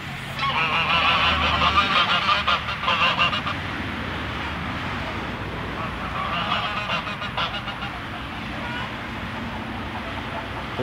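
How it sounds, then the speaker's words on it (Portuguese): A pair of geese honk repeatedly and loudly at close range on a farm, their calls overlapping in bursts amid other fowl, with faint road traffic in the background and someone talking intermittently. "Casal de ganso."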